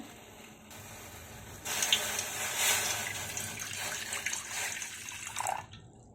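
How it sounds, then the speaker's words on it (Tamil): Water pours steadily into a cooking pot, a broad rushing splash that swells midway and then tapers off with a few final trickles, with no talking. "ஒரு பாத்திரத்தில் நான் வந்து டூ ஃபிஃப்டி எம்எல் வந்து வாட்டர் ஆட் பண்ணிக்க போகிறேன்"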